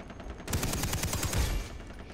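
Automatic gunfire in Far Cry 3, a rapid burst of about a dozen evenly spaced shots lasting over a second, fairly close, without talk.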